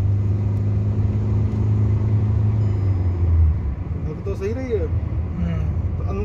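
A Kia Sonet 1.5 diesel automatic droning and rumbling from inside the cabin, a steady low engine hum with a faint falling note. People talk over it throughout.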